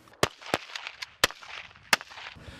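Sharp rifle gunshots at a shooting competition range for hunters, including a large-calibre rifle fired at 300 metres: four loud, close cracks spaced irregularly over a few seconds, with faint background noise between.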